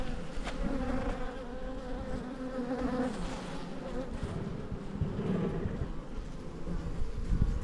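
Bees buzz in a dense, continuous drone from an opened backyard hive, close and steady with swelling and fading tones as individual insects pass near.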